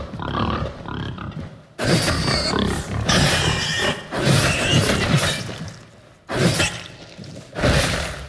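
Pig characters from the video game Killing Floor 2 squealing and grunting in dense, loud bursts over several seconds, with thuds and crashes mixed in and short pauses between the bursts.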